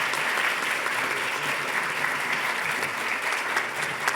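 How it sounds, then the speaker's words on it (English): Steady, dense audience applause fills the whole stretch without letup, greeting the two teams at the close of a debate on AI policy. "Maybe a round of applause for our debaters."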